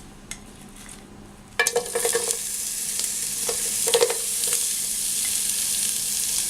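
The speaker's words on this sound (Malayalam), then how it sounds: "ആ നെയ്യിലേക്ക് ഞാനൊരു ചെറിയ സവാളയാണ് എടുക്കുന്നത്. ആ ചെറിയ സവാള ഇങ്ങനെ സ്ലൈസായിട്ടാണ് അരിഞ്ഞേക്കുന്നത്. അത് ഇതിലേക്ക് ഇട്ടിട്ട് ഒന്ന് ഫ്രൈ ചെയ്തെടുക്കാം." Sliced small onions (shallots) drop into hot ghee, setting off a sudden burst of sizzling that settles into a steady, close frying hiss with occasional spatters.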